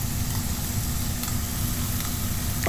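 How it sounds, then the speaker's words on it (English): Finely chopped fresh green chilies and garlic sizzle steadily in a pan, a constant close frying hiss with no break and no voices. "Just saute it a little to remove the raw smell."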